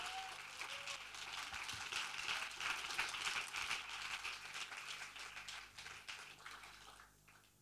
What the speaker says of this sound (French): Chauffez-vous, applaudissez-les.